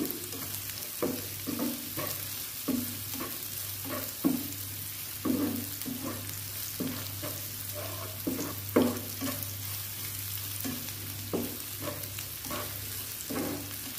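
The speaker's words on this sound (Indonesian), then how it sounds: "kita goreng lagi" Chilies stir-frying in a pan for Balinese rice vermicelli with smoked pork, a steady close sizzle with repeated scraping and clacking of the spatula as the mixture is stirred, over a constant low hum.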